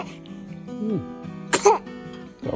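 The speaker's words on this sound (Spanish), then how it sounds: "¡Ay, ay, ay! Esos estornudos." A baby sneezes in a burst near the middle, with softer vocal sounds and babbling around it and a small cry at the end; nearby adults talk softly in the background.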